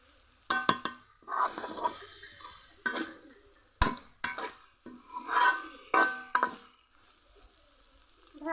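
Pumpkin pieces mashed and stirred in a cooking pan, giving repeated rasping, scraping strokes of a utensil against metal in uneven bursts, close and fairly loud, with no talk.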